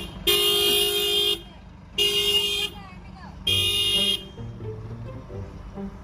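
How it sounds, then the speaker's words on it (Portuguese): Loud truck air horn on a Brazilian highway blasting three long steady honks in a row, close and dominant, with a voice speaking between and after the blasts. "Ela gosta da buzina, filho."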